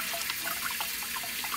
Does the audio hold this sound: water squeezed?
yes